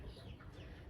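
Baby turkeys and chicks peeping and clucking softly in a short, faint burst, close by and without talk.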